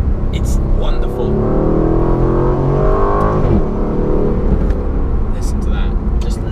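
A new Aston Martin Vantage sports car engine revs up and settles back, a throaty exhaust note rising and falling, loud and close, with a voice talking over it.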